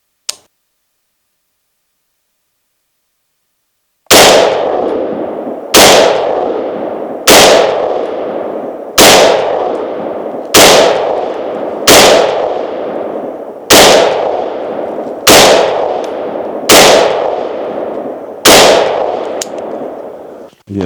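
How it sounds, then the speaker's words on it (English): Ten evenly spaced rifle shots ring out, loud and close, from a Leitner-Wise MARK-5 11.5-inch upper firing M855 rounds off a bag rest on a tripod, each crack decaying before the next, after a brief quiet start. "So I'm gonna aim at a 2-inch box and put 10 rounds within 30 seconds."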